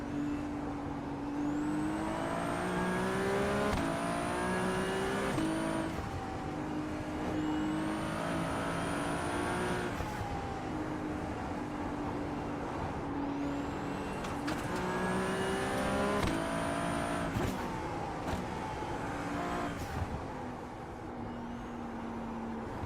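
Race car engine in the iRacing sim, revving through rising gear pulls with a high whining note, then dropping off as it brakes into corners, repeating in cycles and loud throughout with no talk.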